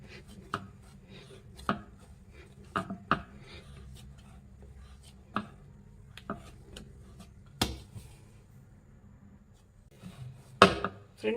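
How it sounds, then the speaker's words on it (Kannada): Bun dough being kneaded by hand for bakery-style buns, giving soft slaps and thuds at an irregular pace, close and fairly quiet against a still background. "ಒಂದು 5 ನಿಮಿಷನಾದರೂ ನಾದ್ಕೊಳ್ಳಿ."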